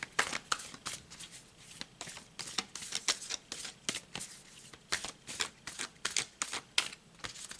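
Tarot cards are shuffled close by in a quick, irregular run of crisp riffles and slaps that continues without a break and stands alone with no talking.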